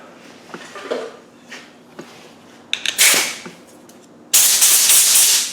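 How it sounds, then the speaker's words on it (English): Compressed-air blow gun blasting loose body filler dust off a panel in a workshop: a few short hissing bursts, then a loud sustained rushing blast close by. "You get the blow gun out."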